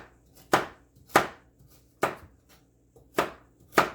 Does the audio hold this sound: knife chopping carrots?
yes